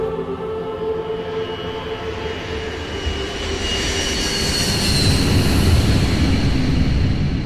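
Airliner in flight, the second plane heading into the second World Trade Center tower in New York on 9/11, a broad roaring engine rumble that swells steadily louder over several seconds as it nears, with no talking.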